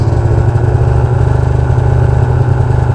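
A truck idles while stopped on a snowy trail, its engine a steady, loud, close rumble with an even pulsing throb and no other sounds breaking through.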